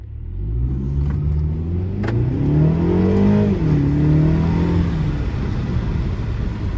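A 2021 BMW 228i xDrive in sport mode accelerates hard along a straight road, its engine note climbing steadily in a loud, continuous rising drone with a deep rumble beneath.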